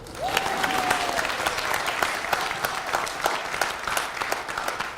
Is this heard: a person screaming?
no